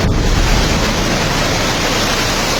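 Loud, continuous roar of one-metre waves crashing against a seawall, with heavy wind buffeting the microphone, a dense wash of noise throughout.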